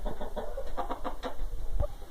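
A bearded yellow fighting rooster makes a few short, close clucks and throaty calls in a quiet spot, with no one speaking.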